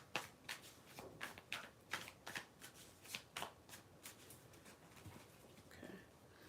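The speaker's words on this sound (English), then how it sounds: "Spirit told me to pick a card, and I kept shuffling" A deck of tarot cards is shuffled repeatedly, giving quick riffling bursts in a steady rhythm, close and fairly quiet.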